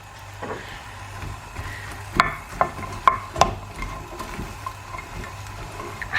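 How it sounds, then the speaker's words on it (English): Chopped red pepper and onion cook in an oil-free Berghoff pan, with a soft sizzle under several sharp clinks and scrapes of a utensil stirring against the metal. "a chopped red pepper and an onion. And I'm just going to cook that down a little bit."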